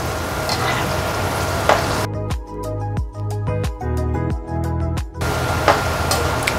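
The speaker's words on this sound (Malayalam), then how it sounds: "ആ സമയത്ത് കിസ്മിസ് കൂടി ചേർക്കാം ഒന്നിച്ച് വറുത്ത് മാറ്റാം" Raisins frying in ghee for rava kesari, a steady close crackling sizzle that gives way to a stretch of sharp, rhythmic tonal strikes before the sizzle returns.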